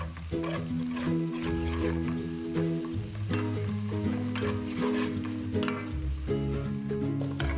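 A steady loud sizzle of potato and curry with turmeric being stir fried in a pan, with stirring scrapes throughout and a constant background tone underneath.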